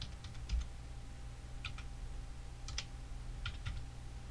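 Computer keyboard keys typed in short bursts of quick clicks at a few spots, close but quiet over a low hum while values are entered in Photoshop.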